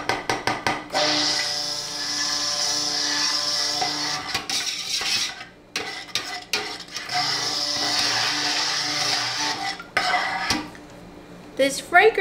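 A tool scrapes and clinks against a pot while titanium dioxide is blended into soap batter, a steady metallic stirring with short knocks, and a person talks over it.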